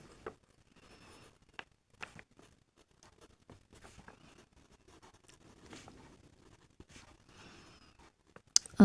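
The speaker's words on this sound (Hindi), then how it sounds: "इसलिए मैं यहाँ एक स्टेटमेंट लिखती हूँ" Handwriting of a maths statement: a pen scratching and tapping across paper in short irregular strokes with faint rustles, fairly quiet and close, with no talking over it.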